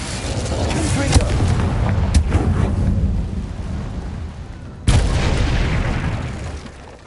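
Confringo explosive spell from Hogwarts Legacy: a booming blast with rumbling crackle that swells, then a second sharp explosive burst near the end, loud and close.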